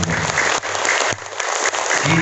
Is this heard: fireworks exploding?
no